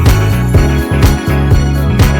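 Loud, dense produced drum loop with a hi-hat on every other step over steady kick hits and a low bass layer, repeating evenly for about two seconds with no talking.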